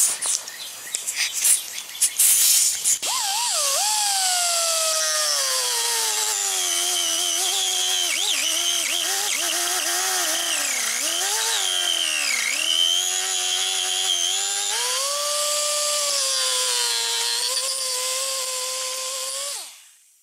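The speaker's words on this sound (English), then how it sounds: "I'm just going to cut it enough so I can sand the rest of it down." A rotary cutting tool trimming cracked fiberglass on a 1988 G-body Monte Carlo, a loud continuous high whine that rises and dips in pitch as it bites for about seventeen seconds before winding down.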